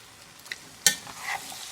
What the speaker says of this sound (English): Give that good stir.